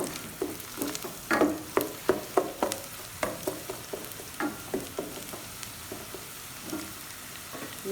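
Crushed garlic, ginger and green chilies fry in half a cup of ghee with a steady sizzle, broken by a run of sharp scraping stirs from close by, with no voices.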